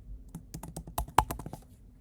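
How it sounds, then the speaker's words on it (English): Fingers tap keys on a computer keyboard while entering spreadsheet data, a quick, uneven run of about a dozen close, crisp clicks in a quiet room. "you can enter data into cells by clicking on a cell and typing."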